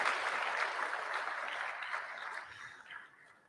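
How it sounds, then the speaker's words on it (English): Applause from a crowd at a community open mosque day event, a soft, distant patter of clapping that slowly fades away toward the end. "Please give it up, a round of applause for Muhammad here."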